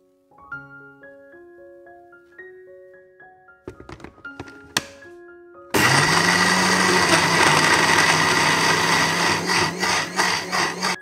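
A kitchen blender purees lemongrass, galangal, ginger, turmeric, candlenuts and 110 ml of oil into a paste. Soft tones and a few taps come first, then the motor starts suddenly with a loud, steady whirring grind that pulses slightly toward the end.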